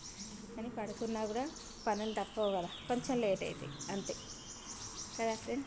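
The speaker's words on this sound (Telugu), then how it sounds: "పిట్టల సౌండ్ మాత్రం మంచిగా వస్తుంది మా" Small birds chirp in quick bursts of high, repeated calls from somewhere overhead on a quiet holiday morning, while someone talks softly over them.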